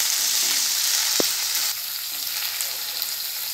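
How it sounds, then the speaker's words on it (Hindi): Potatoes and onion frying in a pan, a steady bright sizzle heard up close, with one brief knock partway through and the hiss easing a little toward the end. "अब इसमें आलू डाल देंगे और अच्छे से इसे हमें भून लेना है।"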